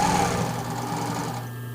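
A domestic sewing machine runs a short continuous burst, stitching the folded elastic edge of a knit tank top, with a steady close mechanical whir for under two seconds.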